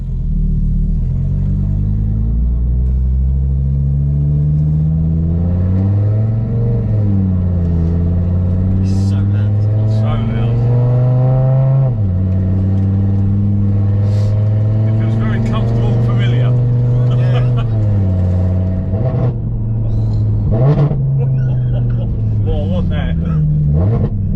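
A 1200hp Audi TT RS driving at speed gives a loud, steady engine drone with rising and falling pitch as it shifts, joined by wind rumble; someone talks over it throughout.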